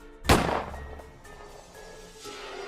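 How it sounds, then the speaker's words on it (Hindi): A single gunshot sound effect in an animated Hindi horror story: one sharp, loud crack with a short booming tail, followed by quiet background ambience. "तभी हमें हमारे पीछे से बंदूक के चलने की आवाज आई।"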